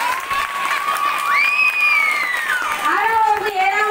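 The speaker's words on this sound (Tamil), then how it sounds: "மாணவ மாணவிகள் அனைவரும் பரிசு வாங்குபவர்களுக்கு கைத்தட்டி உற்சாகப்படுத்த வேண்டும்" Students at a government higher secondary school annual day in Meemisal, Pudukkottai, clap and cheer for prize winners, with rising and falling shouts and whoops over a lively crowd din.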